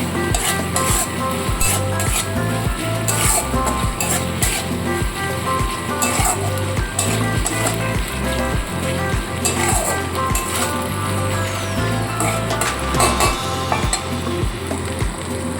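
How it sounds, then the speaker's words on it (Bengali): Onion sizzles in a pan with ginger, garlic and green chilli paste, the base of a pointed gourd and prawn curry. The frying is loud and continuous, with scraping stir strokes and light clinks throughout. "আদা রসুন কাঁচা লঙ্কা বাটা দিয়ে খুব ভালো করে মিশিয়ে নিয়ে এটাকে আমি একটু কষিয়ে নেবো"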